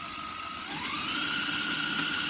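An electric LR mid-drive motor on a Surly Big Dummy cargo bike whines up under throttle, a steady tonal hum rising in pitch and loudness, then holding at full speed, close and alone.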